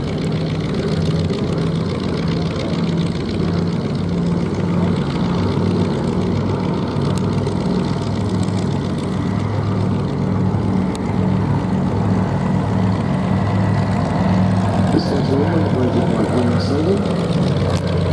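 A propeller aircraft at the Duxford VE Day anniversary air show gives a steady, droning engine rumble that holds at an even level throughout, with people talking over it.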